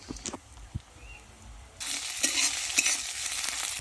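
Ginger stir-fried in a pan on a clay stove: a few scattered knocks and scrapes, then a sudden loud sizzle as the ginger hits the hot oil, continuing with stirring.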